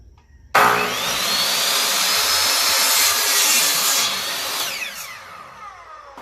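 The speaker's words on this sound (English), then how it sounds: "now I'm going to get ready to use the miter saw to cut it down in one pass" A miter saw cuts down through a wood piece in one pass: a loud, abrupt whirring rasp starts suddenly, holds steady for several seconds, then winds down as the blade slows.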